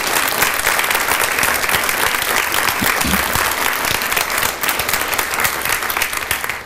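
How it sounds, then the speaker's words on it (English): A church audience at First United Methodist Church of Fort Worth breaks into loud, sustained applause, a dense wash of many hands clapping steadily throughout with no talk over it. "Would you just please give a round of applause for all the heroes we lost on 9/11?"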